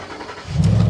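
A Pontiac G8 engine catches and settles into a low, steady idle rumble, close by, after a brief moment of near quiet.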